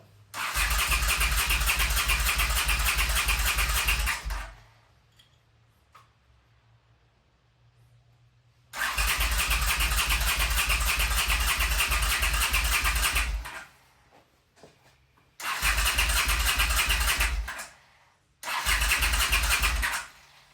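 A 1979 Honda CX500 motorcycle engine runs loud and close in three throttled bursts, separated by quiet pauses when it cuts out, with a fourth short run at the end.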